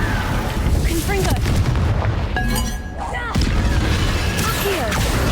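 Confringo blasting spells explode in the Hogwarts Legacy video game during a fight against swarming Inferi, giving loud repeated booms and crashes over a dense, noisy game soundscape.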